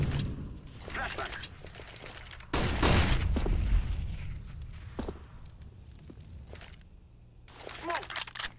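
Grenade and molotov blasts during a professional Counter-Strike: Global Offensive match at the 2018 Boston Major: a sudden heavy burst of noise with glassy crackle, surrounded by scattered shots, clatter and footsteps.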